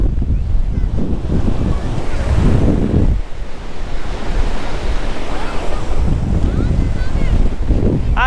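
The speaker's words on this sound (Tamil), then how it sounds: "கடல் தண்ணி, கடல் இவ்வளோ தூரம் வந்துட்டோம், காலாச்சும் நினச்சிட்டு போயிடலாம்" Sea waves surge and break at Poompuhar beach, a loud continuous wash of surf mixed with gusty wind buffeting the microphone, with no voices over the roar.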